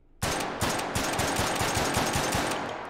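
Futuristic swarm-ammunition gun in Hot Dogs, Horseshoes & Hand Grenades, fired in VR: a rapid, loud burst of about a dozen evenly spaced shots rattling without pause, close and alone.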